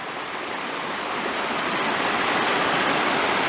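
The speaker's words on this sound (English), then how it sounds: "right there is Mill Prong Creek coming down" Mill Prong Creek in Shenandoah National Park rushes downhill as a steady, broadband wash of flowing stream water, close and continuous, swelling slightly louder over the few seconds with no voices.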